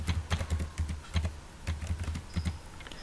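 Rapid, irregular keystrokes clatter on a computer keyboard while a date is entered into MYOB accounting software, a close, fairly quiet series of taps with short pauses and no talking.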